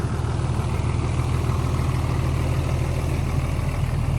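A pickup truck's 6.7 diesel engine idles smoothly nearby, a steady low rumble with an even drone that holds without change from start to finish.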